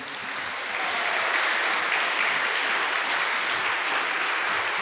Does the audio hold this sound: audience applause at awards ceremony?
yes